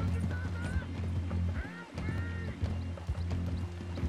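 Galloping horse in Red Dead Redemption 2, with repeated hoof clops, a brief whinny and some gameplay voices over a busy game soundscape.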